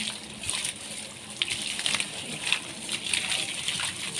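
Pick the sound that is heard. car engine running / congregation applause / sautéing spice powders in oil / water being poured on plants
water being poured on plants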